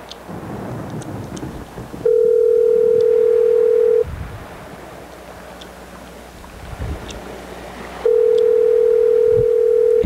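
An outgoing telephone call rings in two long, loud, steady tones separated by a quiet gap, with faint background noise between them.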